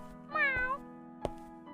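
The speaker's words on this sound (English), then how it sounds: "A kitten was crossing the street from the other side." A kitten meows once with a rising, wavering cry, close and fairly clear, followed by a couple of soft clicks over a steady low hum.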